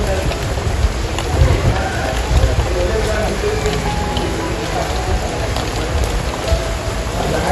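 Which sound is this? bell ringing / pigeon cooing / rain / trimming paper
rain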